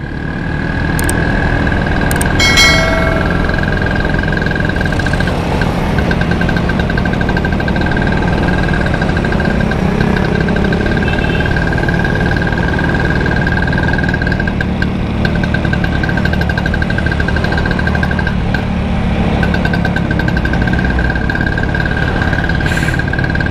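A classic Vespa scooter engine drones loudly and steadily on a night ride, a constant buzzing putter with a high whine held throughout and no voices.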